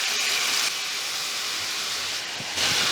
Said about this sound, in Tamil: இப்போ ஃப்ரை ஆகிட்டு இருக்குது.